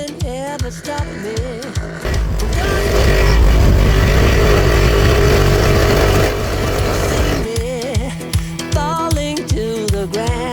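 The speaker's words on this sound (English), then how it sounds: "Let's get scroll sawing." A scroll saw cuts through a large wooden project in one loud, continuous buzzing stretch. Before and after it come short, rhythmic bursts of music.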